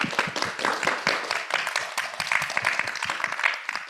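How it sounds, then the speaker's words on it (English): An audience at a training session claps in a loose, moderately faint round of applause, irregular hand claps spread across a few seconds. "Can we please give Abbas a big round of applause?"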